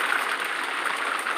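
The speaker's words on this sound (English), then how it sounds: "Sorry about the rain. It literally just started raining here." Steady soft hiss of rain falling outside, even and continuous with no talk, heard from indoors while a card is being made.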